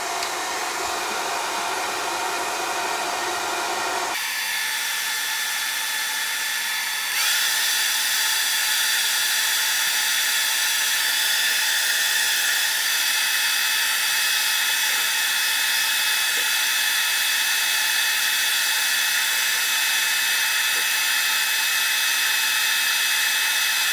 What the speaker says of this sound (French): Moi je prends un vulgaire sèche-cheveux. Et puis c'est parti, on va chauffer tout ça.